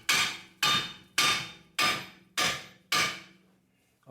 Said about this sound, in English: So I'm gonna tap it down a little bit